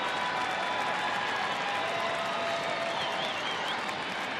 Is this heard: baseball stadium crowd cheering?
yes